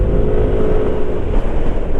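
Steady, loud, close engine and road drone from a Yamaha NMAX scooter riding through jammed city traffic, a continuous motor rumble with surrounding vehicle noise and no talking.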